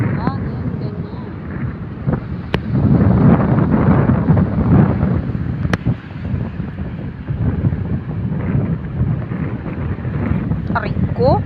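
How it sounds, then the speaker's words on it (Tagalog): Strong wind buffets the microphone on a sandy beach by the sea, a steady roaring rumble that swells and eases, with faint crackles and brief sharp clicks. "Kasi malakas ang hangin."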